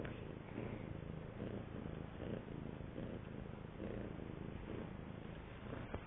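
A cat purrs close by, a continuous low rumble with a soft rhythmic pulse, with no talking.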